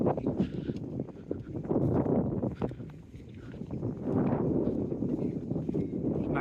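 Strong wind buffets the microphone while walking along a seawall, producing heavy low rumbling gusts that rise and fall continuously with no voices.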